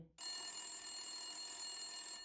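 An old telephone bell rings loudly and continuously, its steady metallic trill starting abruptly after a brief moment of quiet and carrying on without talk.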